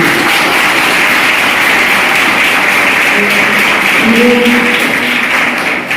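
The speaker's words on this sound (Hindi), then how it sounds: "एक बार सर के लिए जोरदार ताली होनी चाहिए।" Students at a school meditation session clap loudly and continuously for several seconds, a dense, even wash of applause that tails off slightly at the end.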